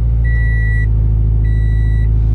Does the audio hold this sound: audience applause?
no